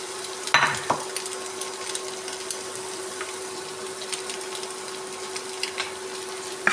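Egg for a Kerala egg-pappad thoran is stirred in a hot pan: a steady soft sizzle runs throughout, broken by a few sharp scraping clinks of the spoon, close and with no voice.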